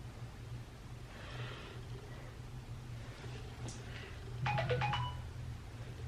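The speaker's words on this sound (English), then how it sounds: "And that's my phone" A mobile phone ringtone sounds in a quiet room, a short melodic burst of bright repeating tones near the end after fainter earlier chimes.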